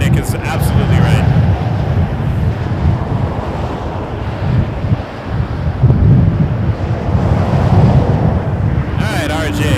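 A gusty crosswind sweeps across Toronto Pearson Airport, buffeting the microphone with a loud, surging low rumble that rises and falls in waves. Faint talk may sit underneath.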